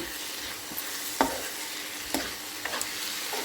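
Okra curry with tomato sizzles steadily in a pan, with a few sharp scrapes of a spoon stirring it, close and continuous.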